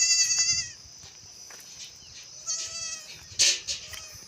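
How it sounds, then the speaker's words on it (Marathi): A day-old male goat kid bleats in several high, wavering cries: a long call at the start, then shorter bleats later, close and fairly loud. "हे बघा हे आहे ते पाठ बोकड"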